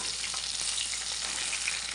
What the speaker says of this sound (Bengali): এই মাছগুলো ভাজা হয়ে গেছে এখন আমি উঠিয়ে নিচ্ছি মাছগুলো